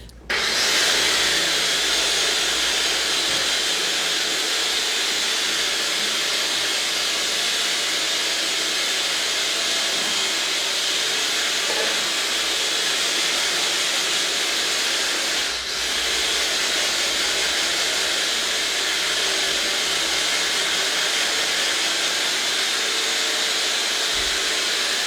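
Small kitchen mixer whirring at a constant high speed while beating pistachio cake batter, a loud steady hiss-like drone lasting throughout with one brief dip midway.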